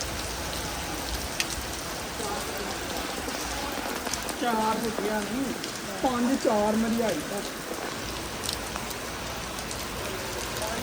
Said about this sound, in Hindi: बहुत तेज़ बारिश होने लग गई है।